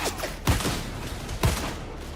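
Two loud, punchy gunshots in a video game, evenly spaced about a second apart, each with a short booming tail over a steady background hum.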